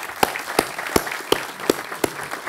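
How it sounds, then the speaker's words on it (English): A small audience at the opening of a school performance stage claps in a sparse, slow rhythm, a handful of distinct, fairly close claps spaced evenly rather than a full ovation. "big round of applause and thank you."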